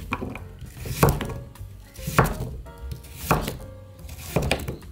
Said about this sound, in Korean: 나박썰기를 하세요